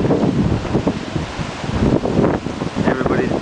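Hurricane Dean's wind gusts batter the Cayman Islands, buffeting the microphone with heavy, surging roars that swell and ease over a few seconds, with a voice faintly audible in the background.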